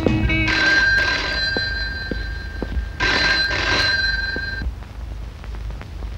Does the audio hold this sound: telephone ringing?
yes